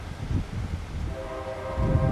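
A train rumbles past on the L'Anse Hill in Michigan's Upper Peninsula with low mechanical noise, and a steady horn tone rises partway through and holds to the end.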